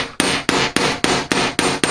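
A hammer strikes sheet metal over a welded join, eight even, ringing blows in a steady rhythm, close and loud with no voices.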